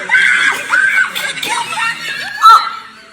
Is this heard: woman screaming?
yes